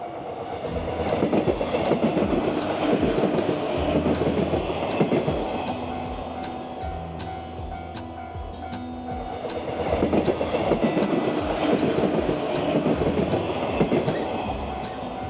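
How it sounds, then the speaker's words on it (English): Yellow trains pass by in Onomichi, Japan, one after another, with a rumbling, clattering roar of wheels on rails that builds, eases briefly, then swells again as the second train rolls through nearby. "Wow, 2 trains in a row."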